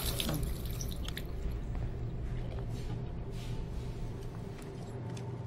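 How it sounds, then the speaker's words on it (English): Water splashing and dripping at a bathroom sink in the Life is Strange video game, a steady close liquid wash with scattered drips and no voices. "Splash some water on our face."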